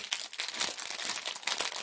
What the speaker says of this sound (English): She's the one playing with most of the paper and stuff, and Lucia is just a calico.